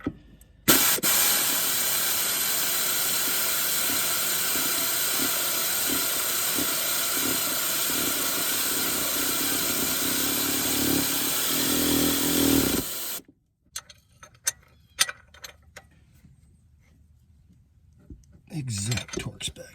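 An Ingersoll Rand air impact wrench runs loud and near for about twelve seconds as a steady pneumatic hiss and hammering roar while fitting a rear motor mount on a 2004 Honda J35A 3.5L V6, then stops abruptly, leaving quiet workshop clatter.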